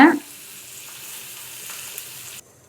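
Curry leaves drop into hot oil with a brief loud crackle, then settle into a steady, fairly quiet frying sizzle that stops abruptly, tempering for a spinach (keerai) kuzhambu.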